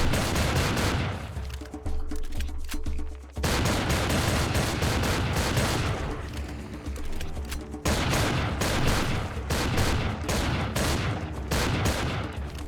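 Continuous heavy gunfire and explosions from the shooter game Serious Sam 3: BFE, dense rapid shots filling the scene with brief lulls between volleys.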